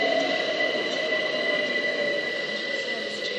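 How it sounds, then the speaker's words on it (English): A London Overground passenger train rolls steadily past a platform at Honour Oak Park on the Brighton Main Line, a continuous rumble with a high, sustained wheel squeal and a faint hiss running throughout. "here is the 1516 London Overground service to West Croydon from Highbury and Islington."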